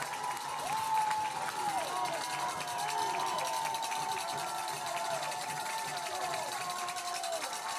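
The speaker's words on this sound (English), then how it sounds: "Crowd is loud." A loud stadium crowd at a Reinhardt University vs. Cumberland University college football game keeps up a steady roar of voices and cheering, with tonal whistles or horns weaving through it. The noise stays level for several seconds.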